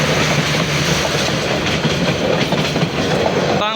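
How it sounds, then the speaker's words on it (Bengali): The Jamalpur Express passes through Joydebpur railway station without stopping, a loud, close, continuous rumble with rhythmic clickety-clack of wheels on the rails throughout. "এই ট্রেনটি জয়দেবপুর হয়ে চলে যাচ্ছে"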